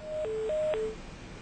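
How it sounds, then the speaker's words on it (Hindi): Telephone call disconnecting during a live broadcast, four short alternating electronic beeps at two pitches in quick succession, clear and alone. "लीजिए, फोन भी कट गया"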